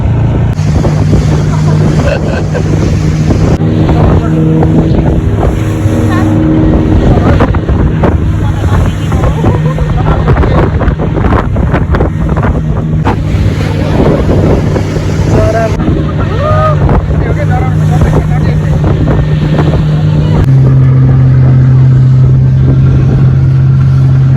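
Motorboat ride on Bharatpur lake (Bharat Taal), with a steady low engine drone and heavy wind buffeting the microphone throughout, water rushing alongside, loud and close, with voices talking faintly over the noise.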